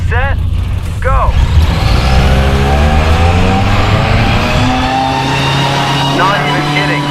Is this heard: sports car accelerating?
yes